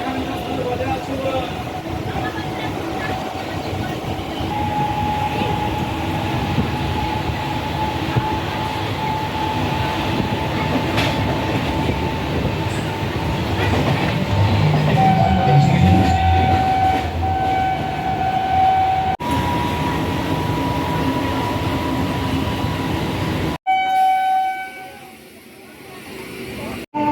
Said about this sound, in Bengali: পায়রাডাঙ্গা স্টেশনে চলে এসেছি, ট্রেন থেকে নেমেও গেছি।